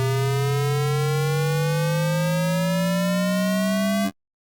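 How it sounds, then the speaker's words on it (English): A bright synthesizer riser made with Ableton Live's Shifter, rich in harmonics, sweeps steadily upward in pitch for about four seconds, then cuts off abruptly into silence. "there's the basics of a riser"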